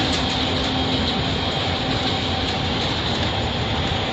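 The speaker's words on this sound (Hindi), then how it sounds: "उन सब के ऊपर ये रुकते रुकते जाती है पैसेंजर ट्रेन।" A passenger train runs on the rail line between Gandhidham and Palanpur, a loud, continuous rushing rumble of wheels on rails, heard up close and alone with no talk.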